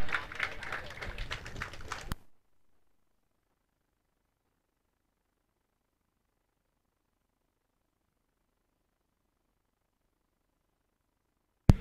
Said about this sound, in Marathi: एकदा जोरदार टाळ्या झाल्या पाहिजे या खेळाडूसाठी